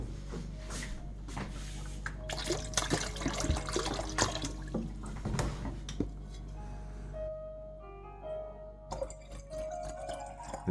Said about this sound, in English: we'll add some filtered water to it